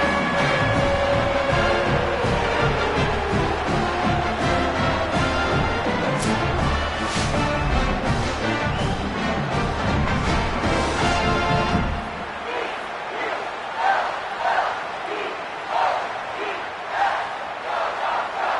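A stadium crowd in the Madden 21 football video game roars and cheers loudly and continuously through an opening kickoff return touchdown, then drops to a quieter, scattered crowd murmur for the final seconds.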